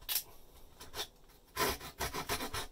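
Wood being shaved and trimmed by hand around a downlight opening in a ceiling, heard as short, close rasping scrapes in uneven bursts separated by brief pauses.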